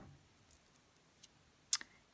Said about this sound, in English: so I'm going to go ahead and cut it off.